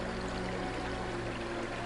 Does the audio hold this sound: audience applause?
no